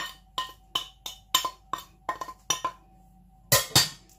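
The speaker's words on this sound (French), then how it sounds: "on mélange le tout en fait. On ajoute tous les ingrédients ensemble, on les incorpore." Spinach, spices and minced garlic being stirred together in a bowl, a utensil clinking against the dish in a steady series of sharp taps, with a brief rougher scrape near the end.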